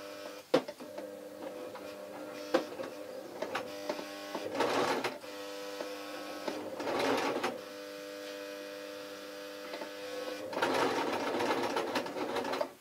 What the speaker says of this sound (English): get the machine going nice and gently, and I'm just going to go as gently as I can.